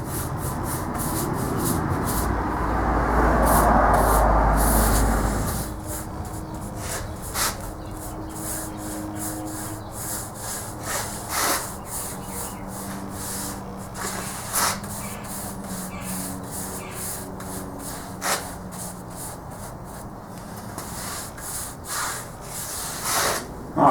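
Soft, repeated strokes of a paintbrush applying paint across a wooden surface, close and quiet, following an earlier louder scraping burst.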